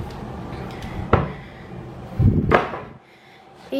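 A hotel room safe in a standard room at Disney's All-Star Music Resort, locked and unlocked with a four-digit code, being opened: a sharp click followed by a heavier thump and rattle as the door moves, close by, with no talking.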